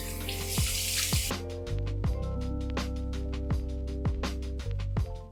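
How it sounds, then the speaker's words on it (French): Running water from a bathroom sink tap splashes as a face is rinsed, a steady close stream broken by several distinct splashes of cupped water. "Là, j'ai rincé mon visage"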